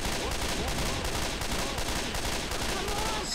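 Sustained rapid gunfire in Left 4 Dead 2, a dense, continuous rattle of shots with no pauses, loud and close throughout.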